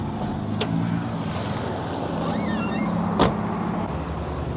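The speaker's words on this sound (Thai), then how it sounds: "เดี๋ยวมาเปิดห้องเครื่องให้ดูกันหน่อย" The engine hood of a Mitsubishi L200 pickup is released and opened: two sharp, separate clicks of the latch and hood a few seconds apart, close by, over steady outdoor background noise.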